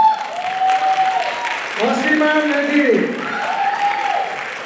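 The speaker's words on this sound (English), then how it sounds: "I would like to invite them with a big round of applause." Audience applause at a cultural event's welcome ceremony, a steady wash of clapping running throughout under a host's amplified voice announcing names over a microphone.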